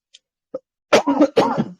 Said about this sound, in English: I had a recent cough these days.